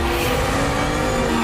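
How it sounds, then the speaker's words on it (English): Lamborghini Huracan STO supercar engine roaring in a loud, steady, dense blast that fills the short moment without a break. "the progressive roar of the engine"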